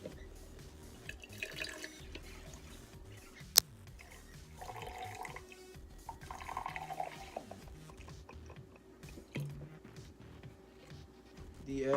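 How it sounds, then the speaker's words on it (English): Vinegar pours and trickles into a glass over an egg, a soft continuous splash with faint drips, heard close and quiet with no talking. "Next, pour vinegar to completely cover the egg."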